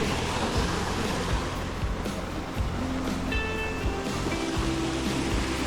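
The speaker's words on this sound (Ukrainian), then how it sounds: "Такий невеличкий водоспадик." A small waterfall in the Carpathian mountains at a holiday complex, giving a continuous, close and fairly loud rushing roar of falling water with no break.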